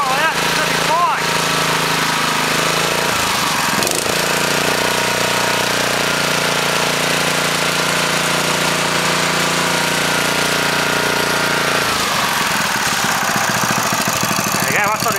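A Honda GX140 small engine, overfilled with oil, runs loud and close with a rough, knocking idle; it sputters and dips briefly near the start and again toward the end while running continuously.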